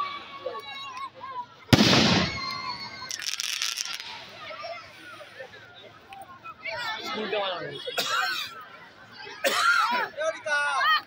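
Fireworks at the Khanra Para High School 75th anniversary celebration, with several sharp bursts and crackling pops scattered among a crowd chattering and calling out nearby.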